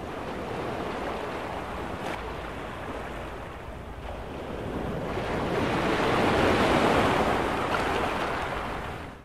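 Ocean waves roll and break in a continuous surf roar that builds to a louder crash midway before easing off, close and loud with no voices.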